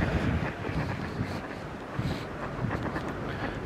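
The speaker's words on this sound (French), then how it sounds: "Il y a un petit peu de vent" Wind gusting steadily beside a frozen, snow-covered canal in Paris on a cold winter day, a broad continuous rush buffeting the microphone with swelling gusts and no talking.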